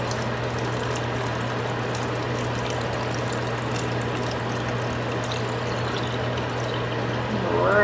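Seasoned, diluted vegetable broth pours into a minestrone soup pot as a steady, close, continuous watery rush that holds throughout, with a low hum underneath and no talking.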